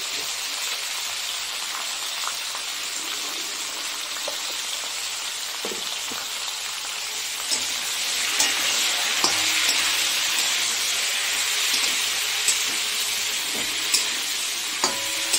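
Vegetables including papaya, salted and cooking in a pan for shukto, sizzle with a steady, rain-like hiss. Occasional stirring scrapes and clicks are heard, and the sizzle swells a little louder partway through, close and without talk.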